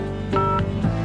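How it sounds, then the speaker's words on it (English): Touch-tone telephone dialing from a 1997 television hotline commercial: a few short DTMF beeps sound clearly over a steady background music bed, with no talking. "All you have to do is pick up a phone and call"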